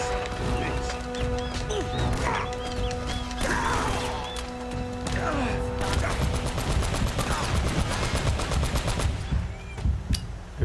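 Rapid bursts of turret machine-gun fire in the video game Uncharted: Drake's Fortune, loud and sustained with scattered impacts, crashes and distant shots, under game effects and occasional voices.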